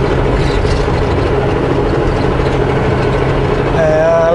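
A semi truck driving through a snowstorm, its heavy diesel engine droning steadily and close while the tires spin on icy pavement and the automatic transmission strains, a low constant rumble throughout.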